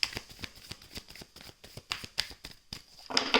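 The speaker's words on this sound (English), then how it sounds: "I'm just giving it a cut here and one more shuffle is what they're saying" Tarot cards being cut and shuffled by hand, a run of crisp riffling flicks and soft slaps in an irregular rhythm, close and clear with no talking, ending in a denser burst of shuffling.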